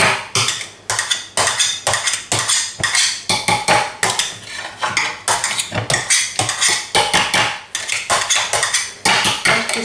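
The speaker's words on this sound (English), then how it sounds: "So keep mashing that potato down." Boiled potato is mashed in a bowl with a clattering utensil, giving a rapid, rhythmic series of loud knocks and scrapes against the dish that carries on steadily with no talking.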